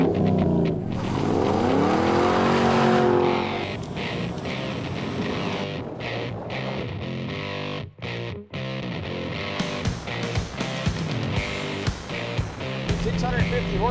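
Ford Shelby Mustang GT500 idling and revving while stationary, a loud, deep, rumbling engine note that swells and holds throughout, with a brief dip partway through and speech over it.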